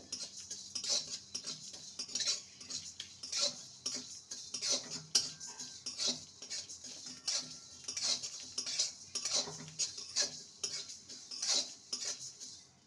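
A spoon scrapes and clinks against a wok as spices are stirred and dry-fried on the stove for jujube pickle. The strokes come in a steady, repeated rhythm, close and clear, with no talking.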